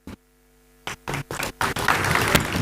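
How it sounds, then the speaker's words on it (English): An audience at a college sustainability startathon grand finale starts to applaud as panelists come to the stage; a few scattered claps swell into steady applause. "I'd like to give a huge round of applause to our panelists as they come to the stage"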